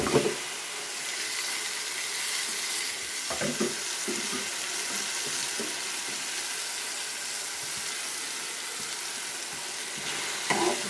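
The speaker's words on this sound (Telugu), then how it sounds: "ఇందులో మనం మామిడికాయలు వేసేద్దాం. మామిడికాయ ముక్కలు" Mango pieces tipped into a tomato masala frying in a pan for egg curry, giving a steady, close hiss of sizzling oil with occasional stirring knocks throughout.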